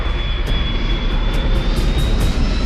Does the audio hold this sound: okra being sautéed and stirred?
no